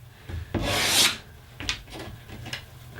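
A file or sanding block rubs the sharp edges off wooden dominoes for a Victorian-style decorative fence: one longer scraping stroke, then several quicker, softer rubs, close by with no talk.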